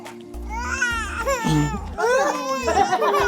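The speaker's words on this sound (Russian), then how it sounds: "дети напугались наклейки моей и начали плакать" Young children wail and sob loudly and close by inside a typical home in Malawi's capital, with their cries rising and falling in uneven bursts.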